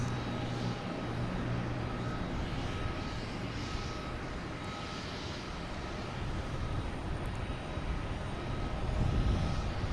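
An Airbus A330 airliner rolling down the runway and taking off at Boston Logan Airport, a loud steady engine roar that holds throughout and swells slightly near the end, with no voices.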